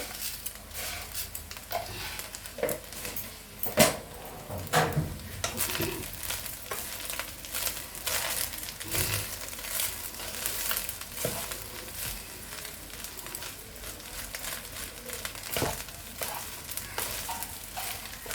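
Cooked rice being stirred and mixed in a pan for narkol kasundi rice, with steady scraping and soft sizzling and occasional utensil clinks against the pan, fairly quiet and close, no talking.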